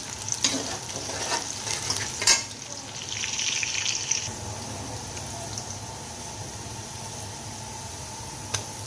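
Onions browning for pulao sizzle and fry in a pan with a steady soft crackle, a few clinks of a utensil stirring, heard close and fairly quiet.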